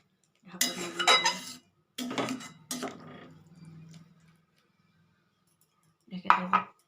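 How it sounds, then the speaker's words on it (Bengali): Beans cooking in a pan are stirred with a few clattering metal scrapes, then a lid is set down with a clink, close by, followed by quiet. "দিয়ে এটা আমি আবার ভালো করে নাড়িয়ে ঢাকা লাগিয়ে দেবো।"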